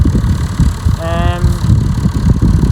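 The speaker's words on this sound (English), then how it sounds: "So first time ever using this tractor for fertiliser spreading." A Massey Ferguson tractor engine runs loud and steady during fertiliser spreading, a close, continuous mechanical drone with a brief rising whine partway through.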